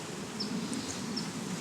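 Honeybees swarm around an opened hive, their dense, continuous buzzing close and even, with no voices over it.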